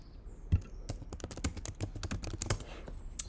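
Typing on a computer keyboard: a quick, irregular run of close, crisp key clicks with short pauses between bursts, and no talking.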